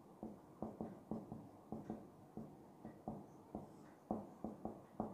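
Chalk or marker strokes on a board during a chemistry lesson, a quiet run of short scratchy strokes in quick irregular bursts, close with no talk.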